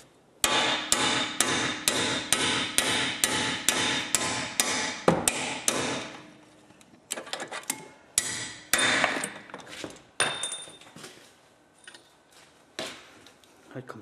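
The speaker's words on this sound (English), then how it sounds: "Now, undone the bolt, tap the bolt through." Hammer tapping a bolt out of the top ball joint on a VW Passat: about a dozen evenly spaced, ringing metallic blows, then a looser run of lighter, irregular taps, all close and loud.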